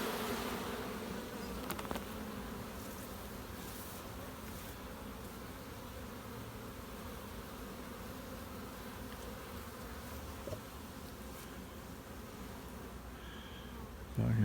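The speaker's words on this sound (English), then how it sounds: "it's going to be absolutely covered with bees" Bees swarm around a full honey super during harvest, with robber bees drawn in; a dense, continuous buzz of many insects holds steady and close throughout.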